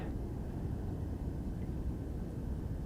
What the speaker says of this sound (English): That's a Cessna 208 Grand Caravan. We'll be taxiing in front of the Boeing Dreamlifter.